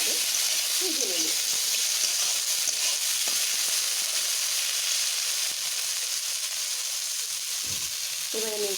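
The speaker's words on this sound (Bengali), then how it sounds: "এবার এগুলোকে আমি আরেকটু ভালোভাবে ভেজে নেব।" Jackfruit seeds fry in a pan with a steady, even sizzle and hiss, broken by a few faint clinks and stirring scrapes, with brief faint talk in the background.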